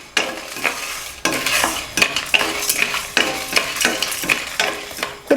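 Cinnamon being dry-roasted in a pan over a medium flame, with repeated scraping and stirring strokes of a spoon against the pan and a light sizzle, close and fairly loud, no talk.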